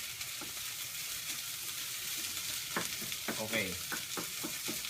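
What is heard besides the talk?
stir-frying rice in a small wok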